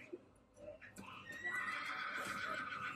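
A horse neighs and whinnies in the Korean zombie series Kingdom, a short rising cry with some hoof clatter, partly under loud excited talking from viewers reacting to the scene.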